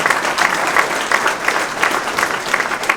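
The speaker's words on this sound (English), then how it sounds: "Please give all those folks a round of applause." Audience applause at the McCreary Football Complex dedication ceremony at Wake Forest, a close, dense round of clapping with rhythmic swells that continues throughout.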